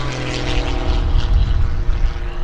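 Greg Connell's Wolf Pitts aerobatic biplane at the Greenwood Lake Airshow, its propeller engine droning loud and close with a rising and falling snarl as it rolls through a routine.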